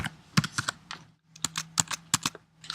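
Fingers type a serial number on a computer keyboard in quick bursts of close, crisp key clicks, with a short pause partway through and then another run of keystrokes.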